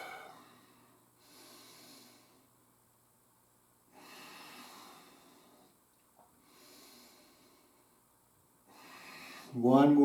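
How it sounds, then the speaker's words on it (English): Slow rhythmic breathing during a chair yoga class, with soft, close inhale and exhale rushes at steady intervals and a brief louder sound at the very end. "Back to that rhythmic breathing."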